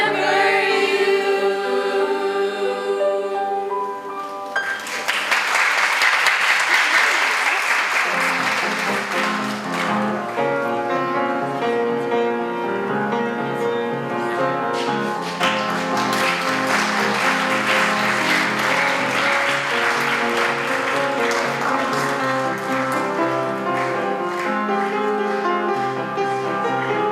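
Graduates of an eighth-grade graduation ceremony are cheered with audience applause that rises after a few seconds and carries on steadily over loud music with a singing melody.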